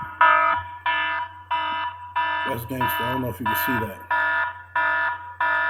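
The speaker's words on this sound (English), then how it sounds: "3 o'clock in the morning. That's my alarm." An electronic alarm set for 3 a.m. beeps in a steady rhythm of loud, evenly spaced pulses, and someone briefly speaks over it partway through.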